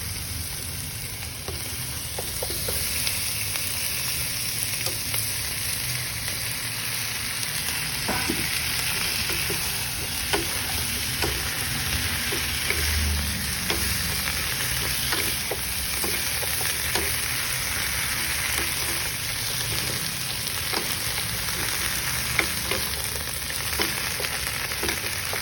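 Shrimp sizzling and frying in a pan for adobong shrimp with coconut milk, with a steady loud crackle and occasional stirring scrapes, close up and without talk.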